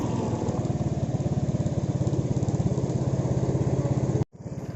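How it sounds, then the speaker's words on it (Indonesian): A motorcycle engine runs close and loud with a fast rhythmic pulsing throb as the throttle is worked during a battery charging test, then cuts off abruptly near the end before briefly resuming. "Coba kita glayer-glayer ya, atau kita gas layaknya motor yang berjalan."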